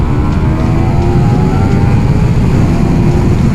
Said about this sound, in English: being an old 600 inline 4, it just gives you that screamer sound